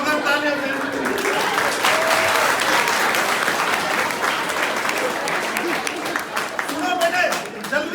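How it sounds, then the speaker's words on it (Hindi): An audience at a road safety awareness event bursts into loud sustained applause, dense clapping filling the hall for several seconds with some voices mixed in before it thins toward the end. "जोरदार तालियां दें।"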